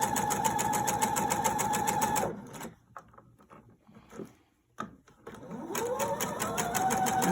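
A sewing machine stitches a quilt seam in a steady fast whir, stops for a few seconds of near silence with small handling noises, then starts up again and runs at full speed.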